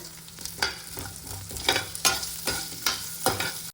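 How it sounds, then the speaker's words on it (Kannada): Onion dropped into hot oil with ginger and garlic crackles and sizzles steadily in a pan, with periodic stirring scrapes and bursts, close and fairly loud with no talking. "ಈರುಳ್ಳಿ ಹಾಕಿದ ತಕ್ಷಣ ಚಟಪಟ ಅಂತ ಇದೆಯಾ, ಸೌಂಡ್ ಬರ್ತಾ ಇದೆಯಾ?"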